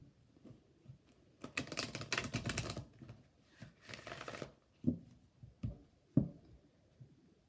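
A deck of oracle cards riffles in two quick bursts, followed by a series of soft taps and shuffles as the deck is squared, close up and fairly quiet.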